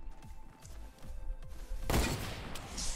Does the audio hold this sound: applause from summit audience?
no